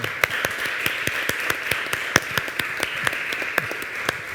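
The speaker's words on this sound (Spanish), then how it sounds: "yo creo que eso merece un aplauso" Audience applause at a gastronomy forum, a steady wash of many hands clapping at moderate distance that holds evenly throughout.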